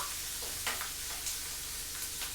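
Tempering sizzles in a hot pan for Telugu-style fish curry, with curry leaves and onions frying in oil; a steady close hiss with a few soft stirring scrapes.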